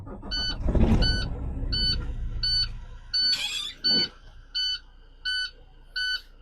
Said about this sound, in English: So now I'm going to start the truck, fill up the air 125 psi